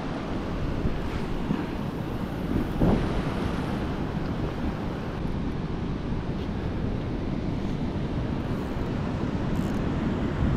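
Waves breaking at a seashore fishing spot on a rainy day, with wind buffeting the microphone; a steady, loud wash of surf and gusting noise fills the whole stretch without pause.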